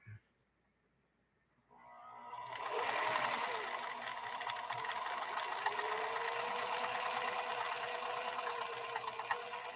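A PFAFF 332 sewing machine starts up after a short quiet moment and runs steadily, its needle stitching a tight decorative pattern with a fast, even mechanical whir and rapid clatter.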